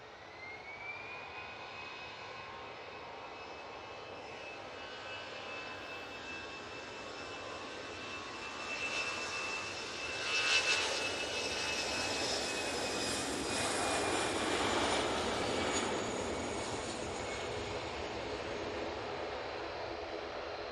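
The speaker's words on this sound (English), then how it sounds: "Aer Lingus lined up, ready to go." An Aer Lingus A320 jet takes off at Manchester Airport, a distant engine whine with a high tone swelling into a louder roar midway, then holding steady as the aircraft climbs away.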